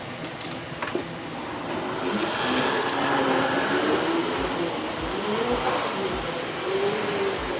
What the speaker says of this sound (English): Matt, you think they're gonna like the wheelie on the ramp trick?